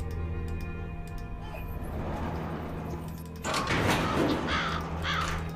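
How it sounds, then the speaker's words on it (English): Crow cawing in a Nancy Drew mystery game, harsh caws rising near the end over a steady background hum and faint ticking. "I hate Mr. crow noises."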